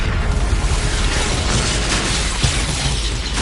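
An Incendio fire spell is cast in Hogwarts Legacy, giving a loud, sustained rushing roar of flame with crackling bursts and a brief thump near the end, under constant combat noise.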